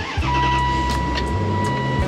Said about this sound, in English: So let's start the car for a little bit.